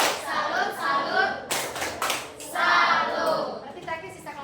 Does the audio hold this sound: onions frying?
no